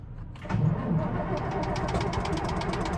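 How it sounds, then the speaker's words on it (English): A Case 1455 tractor engine cold-starts in Farming Simulator 19: a brief crank, then the diesel catches and settles into a rough, knocking idle that carries on steadily. "May as well do a 1455 cold start."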